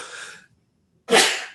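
A person sneezes once, sharp and close, preceded by a soft intake of breath and a brief pause of silence.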